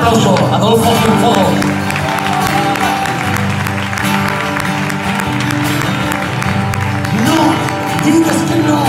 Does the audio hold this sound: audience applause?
yes